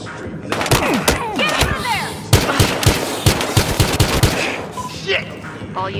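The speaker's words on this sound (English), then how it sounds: "All units, multiple shots fired at the location" Gunfire in the police shooter game Battlefield Hardline: loud bursts of automatic fire and sharp single shots crack in rapid, uneven volleys, with thuds and a brief radio-style voice mixed in.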